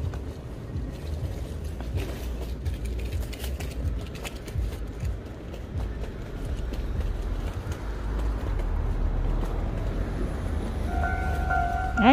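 Train arriving at a station, a rumbling mechanical roar building steadily and growing louder, with a high squeal of brakes near the end.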